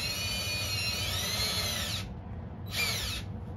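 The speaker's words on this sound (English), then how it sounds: "I'm pre-drilling the holes here for the screws" A power drill whines at high speed for two seconds while pre-drilling screw holes in a plant stand leg, cuts out briefly, then revs again in a shorter burst, close and loud.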